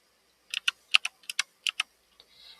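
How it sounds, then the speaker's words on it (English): A computer keyboard typed as a file-system command is entered in a Linux terminal, about a dozen crisp, separate key taps in small clusters, close and clear against near silence. "Then we'll type in the fsstat."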